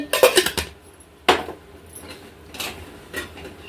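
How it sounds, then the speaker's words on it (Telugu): A metal lid is set onto a pot of cooking rice with a cluster of sharp clanks and clinks, followed by a few isolated knocks of cookware, close by and without speech. "ఇప్పుడు నేను మళ్ళీ మూతేసి పెడుతున్నాను"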